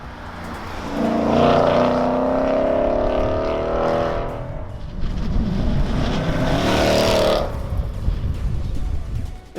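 A 2018 Mustang GT with a Ford Performance Borla Sport cat-back exhaust and quad tips accelerates hard through two gear pulls, a loud rising V8 roar with a brief lift between, close and alone.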